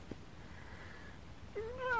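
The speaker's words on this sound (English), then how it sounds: "Mad kitty." A single drawn-out cat meow rising near the end of a quiet stretch, fairly faint against low background hiss.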